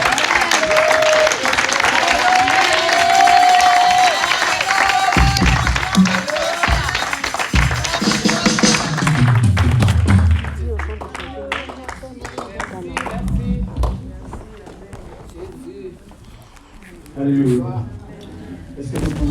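A church congregation applauds and cheers in a loud, dense wash of clapping and voices that builds, then thins into scattered claps and murmurs.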